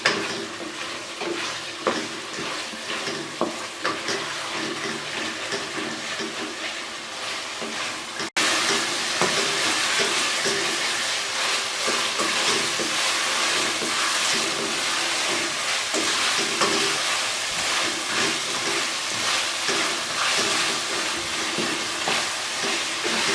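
Chicken masala fries in ghee while being stirred, a loud continuous sizzle with scraping spoon strokes against the pan; the frying grows denser and louder partway through and carries on steadily to the end.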